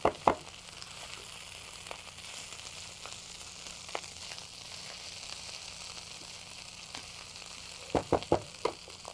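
Kale frying in infused oil: a steady, low sizzle carries throughout, with a few sharp clicks early on and a burst of clatter near the end as the leaves are stirred.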